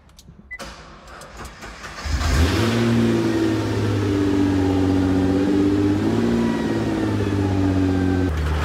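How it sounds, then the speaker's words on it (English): A car engine starts and then idles steadily with a low rumble, close by, with no talking, as the car is driven into a paint booth. "let's go ahead and get the car and put it in the paint booth"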